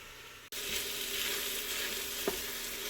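Meat pieces browning in a hot pan for posole, a steady close sizzle that starts abruptly after a brief cut and includes one short clunk.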